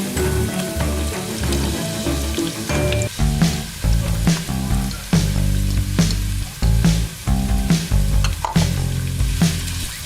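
Onion fries in oil in a pot after garlic for a Filipino dinuguan pork stew, with a steady close sizzle broken by clatters of stirring and pot knocks throughout.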